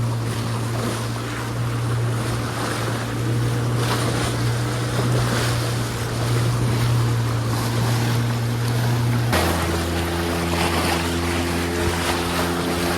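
A boat runs on the sea off Nivati with a steady loud engine drone, wind buffeting and water rushing past. Partway through the engine note drops and shifts pitch.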